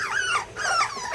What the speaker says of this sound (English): Bark, babies. I know I got barkers.